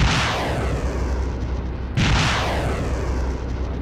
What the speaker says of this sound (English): Are you at the base shooting rockets?